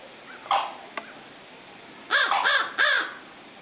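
Pied crow giving a few harsh caws, one early call and then three loud rasping caws in quick succession, clear and fairly close against quiet background hiss.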